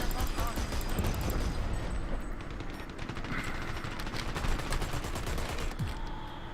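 Rapid gunfire rattles through a Dirty Bomb video game match, dense bursts of shots crackling almost continuously over the game's background noise.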